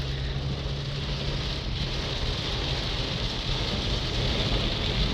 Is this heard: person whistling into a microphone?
no